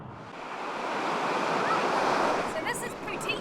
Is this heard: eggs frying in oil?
no